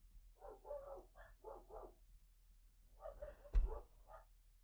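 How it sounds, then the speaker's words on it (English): Puppies in an anime scene give several bursts of yappy barking, moderately loud, with a short pause between volleys and a sharp thud near the end. "puppies be barking"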